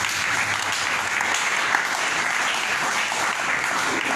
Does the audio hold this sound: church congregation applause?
yes